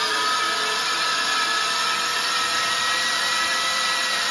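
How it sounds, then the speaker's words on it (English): A Mercruiser 5.0 MPI boat engine is cranked over to prime it, giving a loud, steady, high whirring drone that holds unchanged throughout, with no voices. "Motor's turning. Keep going."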